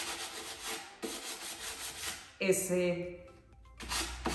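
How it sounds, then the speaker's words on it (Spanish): A Jesmonite piece gets light hand sanding to knock down a burr. Close, scratchy rubbing strokes come in short bursts, broken by a stretch of speech, then resume. "lo voy a lijar. Únicamente es un lijado suave"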